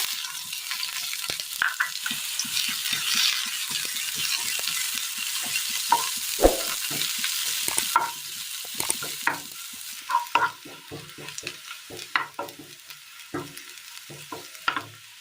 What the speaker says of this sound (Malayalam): ചൂടായി വന്ന ഈ എണ്ണയിലേക്ക് ഒരൽപ്പം ജീരകം ഇട്ട് കൊടുക്കാം